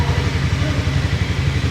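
A Harley-Davidson X440 motorcycle engine idling just after starting, a close, loud, steady low thumping pulse with rapid even beats and a faint mechanical clatter, no talk.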